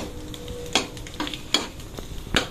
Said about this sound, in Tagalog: nagigisa na po tayo ng bawang